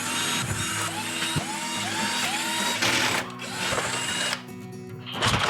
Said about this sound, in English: what we're going to use to remove the panel is a number 15 Torx bit